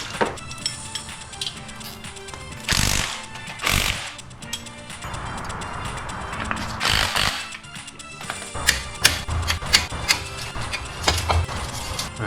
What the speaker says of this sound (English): I'm gonna be using a spring compressor to do the rest.